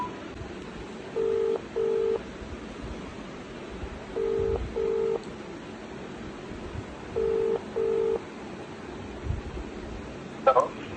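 A mother dials a phone call to the father, keying three short bursts of paired touch-tone beeps at a steady pace, each burst two quick tones, over faint room hiss with a small click near the end.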